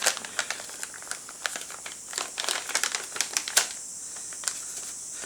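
A mail package containing stickers is torn and unwrapped by hand, giving a steady crinkle of paper or plastic packaging with sharp crackling bursts throughout, close and alone.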